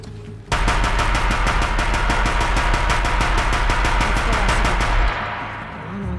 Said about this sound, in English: Deathbringer gun, huh?